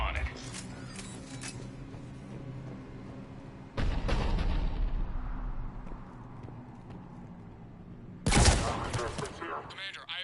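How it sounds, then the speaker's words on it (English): Cerberus cannon artillery fire in the Mass Effect game, heavy booming blasts at intervals amid battle noise, with voices talking over it. "The cannon fire is clearing the way"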